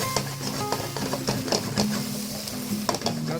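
Chinese cabbage stir-fried over a high flame in a hot wok, with steady sizzling and repeated scraping and tossing clatter, close and continuous.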